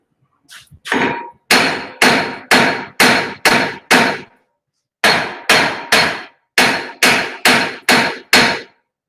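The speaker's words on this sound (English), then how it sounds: "I can either pop those off with the hammer" Hammer blows striking brake rotors on a 2017 Toyota Camry during a front brake job, heard as two loud bursts of about six sharp metallic strikes each in a steady rhythm, separated by a short pause.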